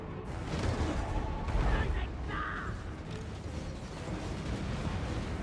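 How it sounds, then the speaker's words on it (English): Dense battle din from a Total War: Warhammer siege as Greenskin Goblin Archers loose poison missiles, a steady clatter of volleys and mechanical creaks that swells briefly and then settles into a continuous roar, with a voice talking over it. "Goblin Archers are firing away, using those poison missiles very effectively"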